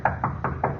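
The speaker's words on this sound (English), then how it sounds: "I was awakened by someone knocking on my door" Five evenly spaced knocks on a wooden door, close and firm, each a sharp rap with a short resonant body, in a quiet room with no voices.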